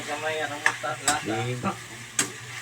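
Chayote being sautéed in a pan for a Cebuano-style vegetable dish with dried fish, giving a steady soft sizzle broken by a few sharp scrapes and clinks of stirring, close and without talk.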